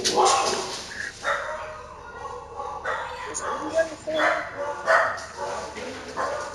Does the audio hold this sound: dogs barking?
yes